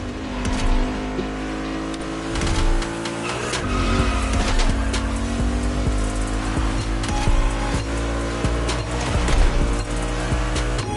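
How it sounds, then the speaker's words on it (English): A car drifting through hairpin turns in the racing game The Crew Motorfest, with a loud, sustained engine drone and long tire squeals rising and falling as it slides continuously. "Drifting is the best way to take sharp turns without losing speed."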